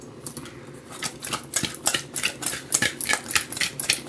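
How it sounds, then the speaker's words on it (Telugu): Small fish pieces being mixed with salt, turmeric and chili powder, giving close, quick, uneven wet clicks and taps that continue steadily throughout with no talking. "చేప ముక్కలు తీసుకుని కొంచెం ఉప్పు కొంచెం పసుపు ఒక స్పూన్ కారం వేసి బాగా కలుపు"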